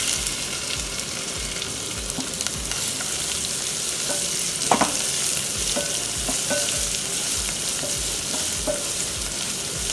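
Carrots fry in a hot pan with an even, continuous sizzle, while a spoon stirs them and taps the pan in a few sharp clicks, loudest near the middle.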